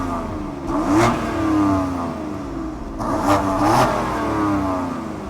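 BMW M4 engine revving hard twice, each rise swelling into a loud accelerating roar with gear-change dips, close by and continuous with no talk over it.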